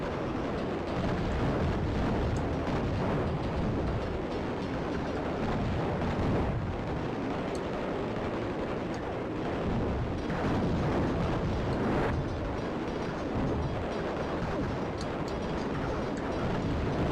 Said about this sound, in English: And the nuclear bomb.